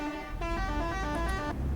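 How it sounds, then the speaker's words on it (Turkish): A single sustained truck horn blares for about a second over a low engine hum, with a synthetic, game-like tone, from a Temsa vehicle in Euro Truck Simulator 2. "kornalarımıza dinleyelim"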